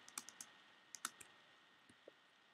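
Light plastic key clicks tap out on a computer keyboard during a game, a quick cluster of presses followed by a couple of softer isolated taps, quiet and close with no talking.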